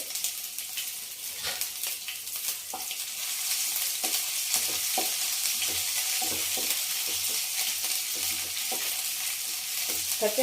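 Coarsely pounded ginger-garlic paste frying in a pan for aloo 65, a bright, steady sizzle up close with scattered clicks and scrapes of stirring, growing slightly louder partway through, no speech.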